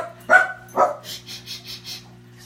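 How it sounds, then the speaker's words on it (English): A puppy gives two sharp, close barks followed by a quick run of five softer, higher yips, all loud against a quiet indoor background with a steady low hum. "excuse my puppy"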